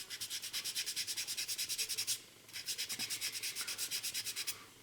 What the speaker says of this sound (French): Le 600 pour adoucir le ponçage du 400.